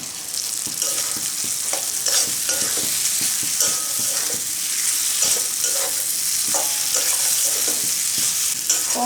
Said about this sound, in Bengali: পটল দিয়ে মশলা দিয়ে ভালো করে কষিয়ে নিচ্ছি আমি